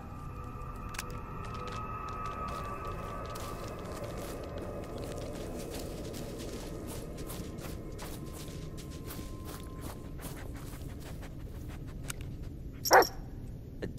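A dog barks and whimpers in the Blair Witch video game, faint beneath a steady ambient hum with scattered clicks and footsteps, with one sharper, louder burst near the end.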